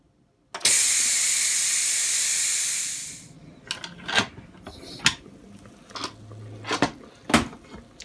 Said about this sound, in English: Okay, so I'm going to release the pressure.